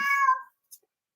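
A cat meowing in the background of an indoor craft workshop: one short, fairly clear meow followed by a faint brief sound, no talk over it.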